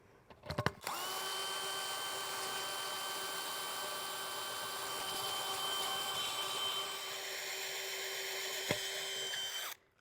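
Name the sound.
drill bit drilling a hole through a birdbath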